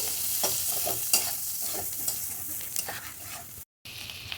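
Chowmein with winter vegetables is tossed in a hot pan after vinegar and soy sauce go in. It makes a steady close sizzle broken by scraping stir strokes, and it cuts out for a moment near the end.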